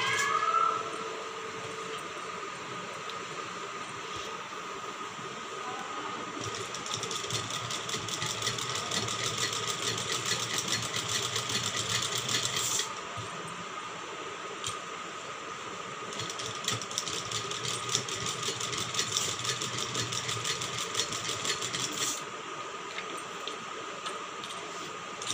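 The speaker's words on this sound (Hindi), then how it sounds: "तो एक सिलाई लगा लेती हूँ गले पर।" A sewing machine runs a line of stitching along a blouse neckline, a soft steady motor hum with rhythmic needle ticking that rises in two longer bursts, no talking.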